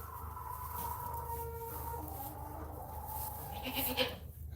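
Baby goats bleating repeatedly in a farm pen, wavering cries one after another, with a sharper louder call near the end.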